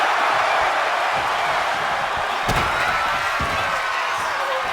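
A Pedigree slammed onto a steel chair in an ECW wrestling video game: one sharp impact thud cutting through a constant loud crowd roar, with a couple of fainter thumps after.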